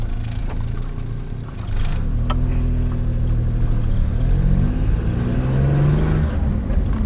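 A Geo Metro car running on hydrogen fuel drives off, its small engine droning, then revving up through rising pitch sweeps as it accelerates, loud and close from inside the car.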